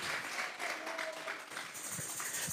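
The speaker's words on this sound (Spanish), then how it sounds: "Vamos a regalarle ofrenda de palmas al Dios de la gloria." A church congregation claps together in a steady, fairly close burst of applause lasting a couple of seconds, moderately loud, with no talking over it.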